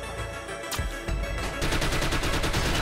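Gunfire in The Mummy Demastered, a dense retro-styled barrage of rapid shots building into continuous machine-gun-like fire, loud and unbroken beneath game music.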